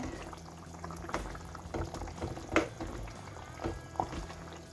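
Broth bubbling in a pot while a Mbongo Tchobi sauce simmers, with irregular soft pops and gurgles over a low, steady simmering hiss, fairly close and unaccompanied by talk.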